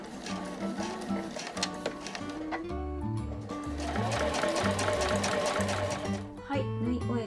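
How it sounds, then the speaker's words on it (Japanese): A sewing machine backstitches the tag on a flat tote bag, its rapid mechanical rattle starting and stopping in short bursts of stitching, close and moderately loud, with someone speaking quietly over it. "最後のこのタグのところも返し縫いをしましょう"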